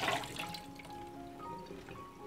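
Pak choy being rinsed in water in a home kitchen, with soft splashing and trickling sounds, a few faint tonal pings, and no talking.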